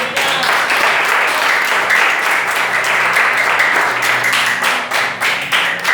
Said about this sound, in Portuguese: As palmas são para o Senhor.